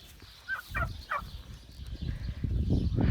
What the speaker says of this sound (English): But those are our two turkeys.